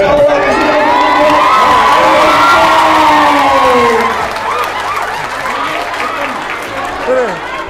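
A lively crowd in a prison setting bursts into loud applause, with whooping and children's high shouts piled on top. It is strongest for the first four seconds, then settles into scattered cheers and calls.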